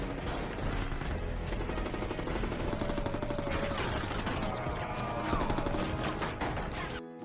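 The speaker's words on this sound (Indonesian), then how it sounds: "adu tembak pun saling terjadi antara para perampok dan sandera" Gunfight between robbers and hostages in Money Heist, a dense, loud, continuous barrage of overlapping shots mixed into a busy soundtrack, with voices faintly underneath.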